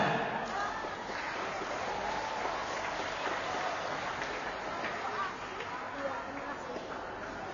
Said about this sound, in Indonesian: Ya, tepuk tangan untuk kawannya.